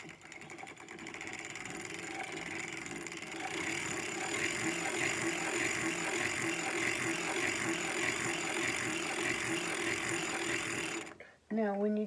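A circular sock knitting machine with a 54-slot cylinder is cranked in a steady, close mechanical whir with a rapid ratcheting clatter, running on continuously before a short stop and restart at the very end.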